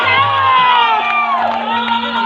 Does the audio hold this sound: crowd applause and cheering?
yes